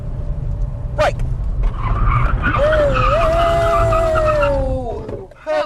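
A Ford Mondeo braking hard from 70 mph: loud, sustained tyre squeal lasting several seconds, rising and wavering as the car skids to a stop, with a brief sharp squeak just before.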